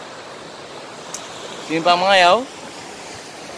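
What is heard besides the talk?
ocean waves breaking on a beach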